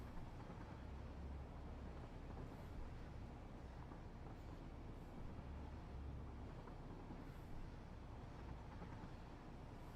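A steady low rumble of a video game train rolling along, continuous and unchanging, with a droning mechanical hum throughout.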